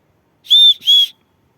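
Two short, shrill blasts from the built-in whistle on a Leatherman Signal multitool, sounded close by with a brief gap between them and nothing else heard.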